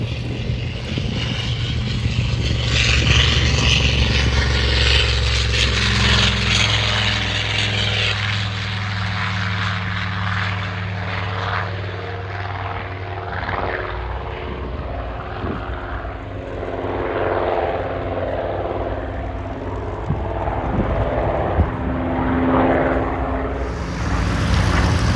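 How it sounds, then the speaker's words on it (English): A Yak-3 fighter aircraft at full power during an airshow at Omaka, a loud, sustained propeller engine roar and drone that swells and fades slightly as it passes overhead. "Airborne in the Yak 3, full noise."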